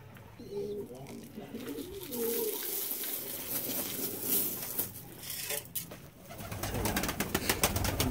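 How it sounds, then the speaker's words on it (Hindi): Fancy fantail pigeons coo softly outdoors as they flutter down to feed on scattered grain, with faint rustling and some background noise; someone speaks quietly at times. "बाकी बर्ड्स आ रहे हैं नीचे"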